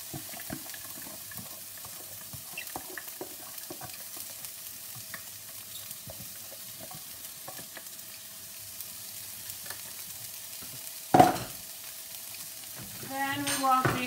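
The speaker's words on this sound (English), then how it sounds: "So I've got my large frying pan sprayed with fry light and preheated" Finely chopped onion sizzles quietly in a large frying pan sprayed with low-calorie cooking spray over medium heat, with a steady crackle, then a utensil scrapes and stirs, and the frying swells a little louder.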